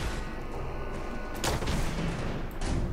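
Loud Fallout 4 gunfire in a heavy exchange, a steady rumble of shots with a couple of sharper cracks standing out near the middle and end, no voices.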